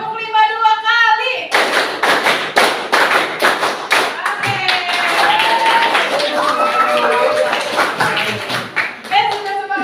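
A class performs the rhythmic 'clap five' pattern: sharp, close hand claps in quick bursts, some stretches faster and denser. A voice leads over the clapping.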